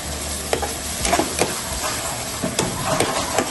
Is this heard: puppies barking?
no